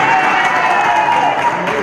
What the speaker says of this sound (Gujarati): પૂર્વીની દાદાગીરીમાં એના બદલે બી મારા માટે એક તાળી વગાડો.